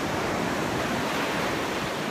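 Pacific Ocean waves wash against the US West Coast shore in a steady, loud rush of surf, with some wind buffeting and no voices.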